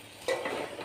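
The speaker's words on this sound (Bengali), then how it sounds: "শাকটা দিয়ে এখন নেড়ে দিব" Fresh, large-leaved Malabar spinach (pui shak) is stirred in a cooking pan, giving a short, soft scrape and rustle of leaves against metal with a faint sizzle underneath.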